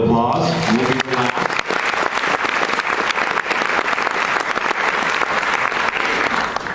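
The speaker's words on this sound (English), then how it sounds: "One more round of applause." An audience claps steadily for academic award recipients at a school lettering ceremony, a loud, dense round of applause that carries on throughout, with a brief stretch of voice at the very start.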